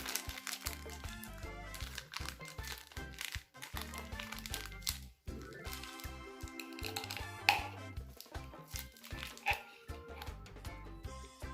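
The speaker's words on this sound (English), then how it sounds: "Get a piping bag and fill it with the mixture." Potato croquette mixture is squeezed into a plastic piping bag, giving close, irregular crinkling and rustling of plastic with soft squishy handling noises, faint gentle music underneath and no talking.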